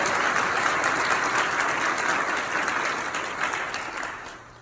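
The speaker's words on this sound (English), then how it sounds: "Give these young people a round of applause." Warm, sustained applause from a congregation honoring young people at an MLK commemorative service, dense and continuous clapping that holds steady and then gradually fades toward the end.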